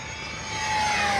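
An FMS P-51 Voodoo RC model plane makes a full-speed pass, its high-pitched screaming motor whine swelling steadily louder as it approaches, with no talking over it.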